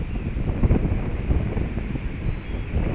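Steady wind rushes and buffets against the microphone outdoors while a drone flies into the wind, a constant broadband roar with gusty swells and no talking.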